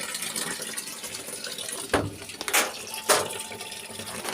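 Water running into a malfunctioning LG inverter automatic washing machine during repair, a weak, hissing flow with a few louder gushing bursts, heard up close with no talking.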